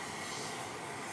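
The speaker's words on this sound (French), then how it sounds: "Donald Trump, cravate bleue, descendent de l'avion présidentiel Air Force One" Steady broadband roar of an aircraft engine, Air Force One, the presidential plane on the tarmac at Orly airport, continuous and even with no voices.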